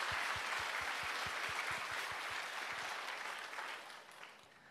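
A church congregation gives a short, soft round of applause during a Thanksgiving Sunday worship service, with a few distinct claps standing out near the start before the sound fades away.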